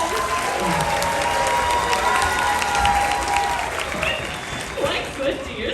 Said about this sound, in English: Oh, audience, let's practice. Ready? Applause!